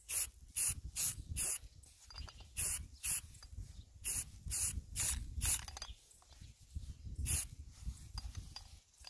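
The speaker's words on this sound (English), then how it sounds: "So let's get started and get the primer on" Short, sharp hissing bursts of aerosol primer sprayed from a can onto door knobs, in a choppy rhythm of repeated spurts over about nine seconds with soft clattering underneath and no talk.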